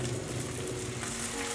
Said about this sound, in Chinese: 继续煎，不定时的反面看看是不是已经可以了。